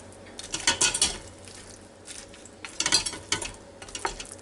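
Cheesy vegetable casserole being stirred in a Ninja Foodi Deluxe pot: soft scraping strokes and light utensil clinks come in a few short bursts with quiet pauses between, heard up close.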